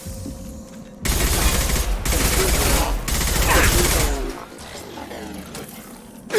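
Heavy gunfire in a Mass Effect 2 battle, a loud sustained fusillade of overlapping weapon shots lasting about three seconds, then easing into fainter scattered combat noise.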